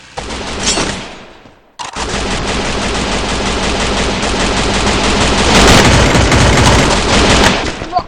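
A shooting video game fills the mix with rapid, loud automatic gunfire, nearly continuous dense bursts after a brief gap, up close and overwhelming.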